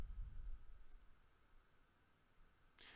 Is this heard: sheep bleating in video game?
no